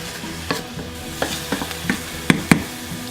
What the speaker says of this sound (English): Now in with our garlic, and cook this for about 30 seconds.